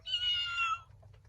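A cat gives a single short, clear meow close by, alone against a faint low background hum.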